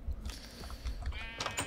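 Sheep bleating in the Minecraft SevTech modpack, a couple of short game-style bleats heard close over faint background sounds, no speech.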